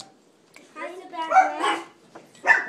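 Chihuahuas barking indoors, a few short high yips close by, mixed with nearby human voices talking.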